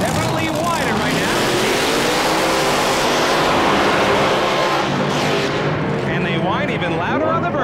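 A hot rod drag car does a burnout at the starting line of an old-time drag meet at Englishtown Raceway Park, giving a loud, sustained engine roar and tire screech that swells and then fades at the end.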